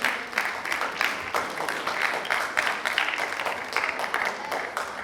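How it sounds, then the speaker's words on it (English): An audience at the opening of a child abuse prevention event claps continuously, a dense crackle of many hands that rises and falls in small waves over a few seconds, fairly close and with no voices over it. "It's okay, you can clap."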